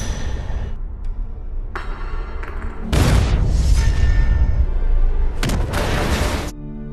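A bag of grenades explodes in a film scene, bursting into two loud, broadband roaring blasts that each hold for over a second above a lower rumbling background.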